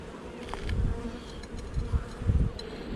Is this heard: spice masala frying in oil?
no